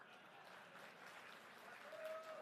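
Audience applause at the fifth anniversary celebration of Partai Ummat, a steady dense wash of many hands clapping in a hall, moderately loud and continuous throughout, with a faint voice briefly audible near the end.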